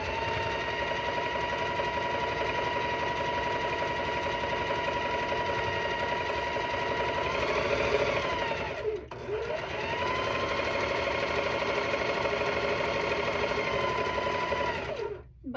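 A sewing machine runs in a long, steady, rapid whir while stitching quilt rows together for a cat quilt, pausing briefly midway before running on and stopping at the end.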